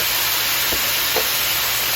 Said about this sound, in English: Let's pop those right into the pan. Give that a quick stir.